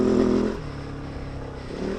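KOVE 450 Rally US production model motorcycle riding off-road, its single-cylinder engine droning steadily up close with a brief rise in revs near the end, no talk.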